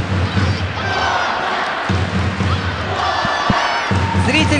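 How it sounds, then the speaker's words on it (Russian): Basketball fans in a packed arena chant rhythmically during overtime of a women's quarterfinal between Chevakata Vologda and Nadezhda Orenburg, a steady roar of crowd voices with a few sharp thumps rising through it. "Зрители скандируют Вологда, Вологда"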